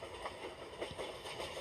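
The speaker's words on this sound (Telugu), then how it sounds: "అరే వెనకాల ట్రైన్ వస్తుంది" A train in a video game approaches from behind, a soft steady rumble with faint rhythmic clatter, fairly quiet and with no voices over it.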